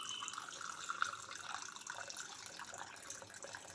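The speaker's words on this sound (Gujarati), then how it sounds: "પાણી એડ કરીશું." Water runs and trickles steadily into a glass of mint syrup over ice, a quiet continuous pouring with faint splashing and no voices.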